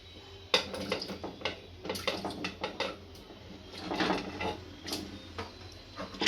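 A pressure cooker lid is fitted and closed, with a series of close metallic clicks, scrapes and knocks in an irregular rhythm and no voices.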